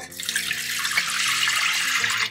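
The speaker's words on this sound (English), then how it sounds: "We will add 3 cups of water to it," Water pours steadily into a pot of rinsed ingredients bound for a pressure cooker, making a continuous, close splashing rush with no talk.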